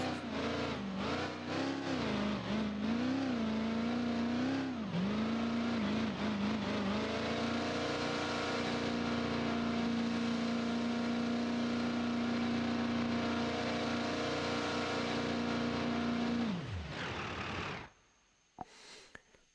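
A Dodge Dart 632 V8 engine in BeamNG.Drive revs up and down in several bursts, then holds a loud, steady high-revving drone for many seconds before cutting off abruptly, with no talk.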